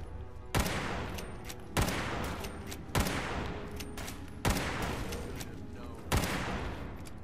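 Gunfire in the video game Fallout: five heavy single shots in a slow, evenly spaced rhythm, each booming out and decaying over a steady noisy background.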